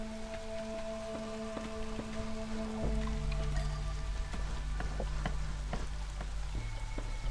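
Steady rain hiss from the storm-soaked world of the video game Against the Storm, a continuous soft patter with scattered droplet ticks under sustained low musical tones.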